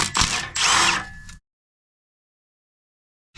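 A power tool whirs loose a 10mm bolt on a wheel speed sensor of a Toyota Sienna during front strut work, in two close, loud bursts over about a second and a half, then stops dead into silence.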